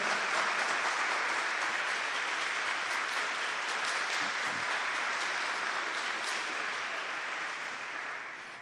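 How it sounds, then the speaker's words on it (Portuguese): Steady applause from an audience after a talk on true devotion to the Virgin Mary, a dense wash of clapping holding even for about eight seconds before a sudden stop. "Uma salva de palmas para o tratado da verdadeira devoção"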